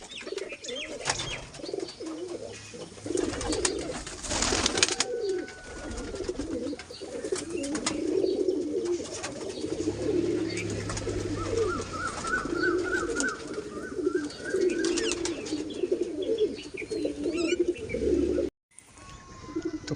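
Big black-green pigeons coo steadily in a loft, a low throaty burbling repeated throughout at close range, mixed with a few chirps and light rustling.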